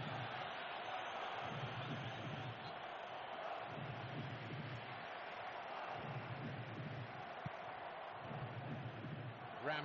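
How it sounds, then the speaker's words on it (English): A football video game crowd keeps up a steady roar of cheering in the background, swelling slightly in places, while a commentator's voice talks over it. "Oh, the crowd love a dribbler."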